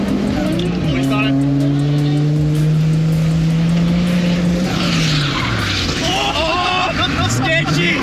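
Turbocharged Ford AU Falcon drift car, its engine droning and rising in pitch under loud tire skidding and squeal, with a rough, uneven sputtering edge; voices talk over it throughout.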